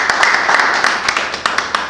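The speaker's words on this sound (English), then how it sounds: "Round of applause." Audience applause at a policy roundtable session, a steady patter of many hands clapping with sharp individual claps standing out, moderately loud and with no speech.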